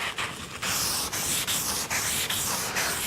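Sandpaper on a profiled foam block working along a radius corner, a close, steady rasping rub in repeated strokes with short pauses between passes.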